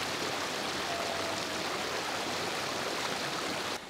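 High Falls waterfall in Algonquin roars as a loud, steady rush of falling water heard close by, with no voices over it.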